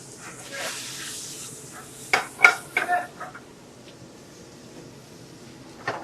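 Mushrooms and onions drop into a hot pan and sizzle softly, with a few clinks and scrapes of a utensil against cookware among the quiet frying hiss.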